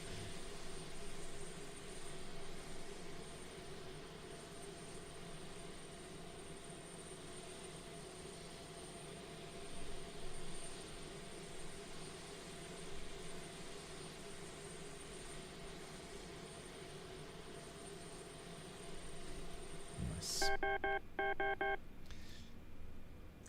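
C-130J turboprop engines in the DCS flight simulator spool down, a steady, faint cockpit drone with a high whine that holds, then ends abruptly near the finish, followed by a few short electronic beeps.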